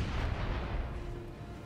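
A rocket slams into an assault ship's landing gear in Space Engineers, a heavy booming blast with a dense rumbling tail that fades over under two seconds, no voices.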